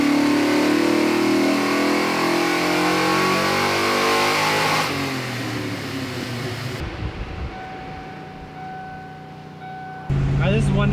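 A Fox Body Mustang engine on a chassis dyno with Holley Sniper fuel injection, held at a loud, sustained high rev before it drops off and settles lower, then picks back up sharply near the end.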